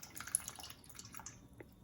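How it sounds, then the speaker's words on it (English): Homebrew makgeolli Korean rice wine drips from a nylon filter bag into a jar, sounding as soft, irregular small drips and patters, faint and close, with no voices. "it's just dripping out nicely."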